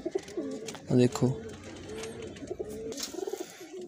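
Pigeons coo in soft, throaty, rolling calls, with one louder burst near the start and quieter cooing continuing close by, while someone talks over them.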